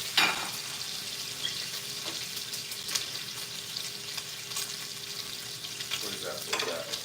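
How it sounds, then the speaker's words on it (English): Bacon fries in a pan with a continuous crackling sizzle and occasional sharper pops, close and fairly loud, with a faint tone running underneath. "Sizzle, yum."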